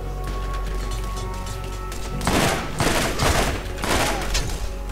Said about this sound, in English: Oh, it's a burst weapon.